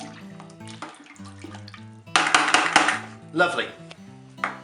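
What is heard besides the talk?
stirring swollen nectarines in homemade wine must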